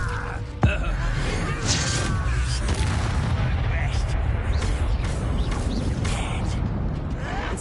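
Fire spell cast in Hogwarts Legacy, a sudden sharp burst followed by a rumbling, crackling roar of flames and chaotic combat noise, loud and dense throughout, with voices mixed in.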